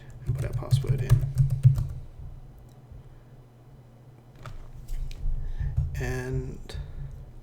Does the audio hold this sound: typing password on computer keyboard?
yes